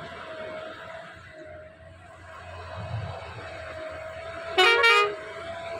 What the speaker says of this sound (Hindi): सुंदर हॉर्न